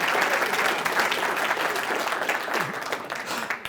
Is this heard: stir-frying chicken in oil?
no